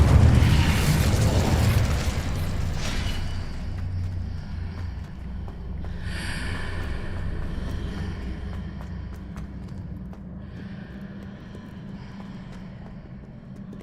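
A fire spell cast in Hogwarts Legacy: a loud whooshing blast bursts out at the start, then fades into a low rumbling roar with crackling and faint magical shimmer over the following seconds.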